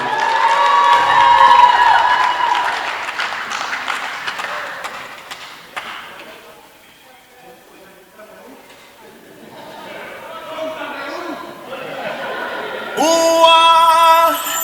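Wedding guests cheering and shouting for a couple making their way onto the stage, a loud crowd roar that fades to murmuring before rising again, with an announcer's voice and music over it.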